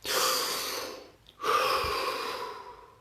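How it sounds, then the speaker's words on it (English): A deep breath drawn in close and clear, a long airy inhale that breaks off briefly before a second full draw of air, with no talking. "So take a breath."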